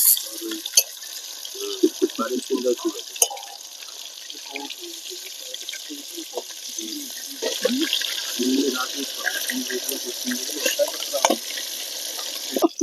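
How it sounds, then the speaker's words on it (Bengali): Catla fish, turned to its second side, fries in hot oil with a continuous close hiss and scattered spitting crackles. Someone speaks intermittently over the sizzle. "এই যে মাছটা এক পাশ ভাজা হয়ে গেছে, আর এক পাশটা ভেজে নেব।"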